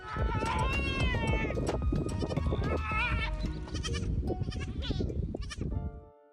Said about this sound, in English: This goat was stuck in a swamp and was making very funny, panicked noises.